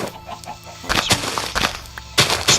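Chickens clucking in the Minecraft video game, several short squawking bursts in quick succession over a low steady game background, fairly loud and close, with no talking.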